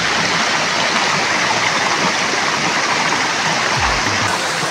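Mountain waterfall pouring near Parasnath temple, a loud, continuous rushing roar of falling water heard up close, steady from start to finish with no voices.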